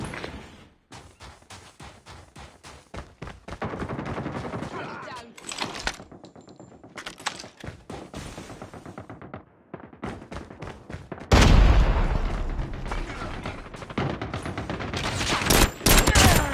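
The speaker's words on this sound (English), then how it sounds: "Sentry gun deployed." Sentry gun firing in Call of Duty Mobile, rapid automatic gunfire in long stuttering bursts with a few gaps, a heavy louder volley near the end, and game voice callouts mixed in.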